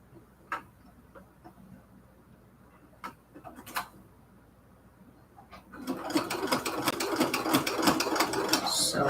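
A sewing machine stitches a cathedral window quilt curtain, starting with a few scattered clicks and handling noises, then running in a fast, steady mechanical rattle that stays up close and continuous to the end.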